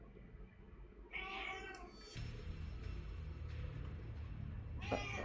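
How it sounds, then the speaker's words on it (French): A domestic cat meows faintly a few times in a quiet room, soft rising cries over low background hum and game noise from a Subnautica session. "Je vous présente le miauleur sauvage."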